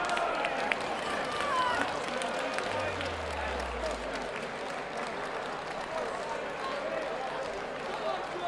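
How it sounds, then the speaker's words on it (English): Crowd applause fills the arena after a boxing match, a steady wash of clapping and cheering that holds at the same level throughout, with a low descending tone sliding down briefly in the middle. "Ladies and gentlemen, please give a round of applause for both fighters"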